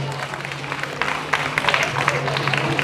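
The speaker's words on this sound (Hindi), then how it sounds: "बाबा, एक बार जोरदार तालियां सभी के लिए।" An audience at a school Republic Day event breaks into applause, scattered claps building to a fuller, steady clapping with a low constant hum underneath and some crowd noise.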